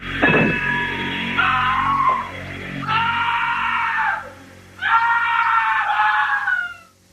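A man in a television special scene lets out a long, loud, strained scream in three drawn-out bursts separated by short gaps, rising and wavering in pitch.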